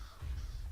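Crabane birds in a video game give a short, loud, low cawing call from close by, with no talk.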